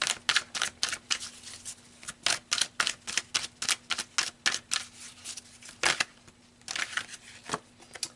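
Tarot cards being shuffled and drawn during a Pisces love reading: a steady run of crisp, papery card snaps and riffles in quick bursts, close and moderately loud, with no talking.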